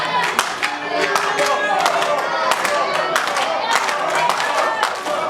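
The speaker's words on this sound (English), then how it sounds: "Listen to this crowd." A crowd at a wrestling event claps in steady rhythmic bursts and cheers in a reverberant venue. A commentator's voice is heard over the noise.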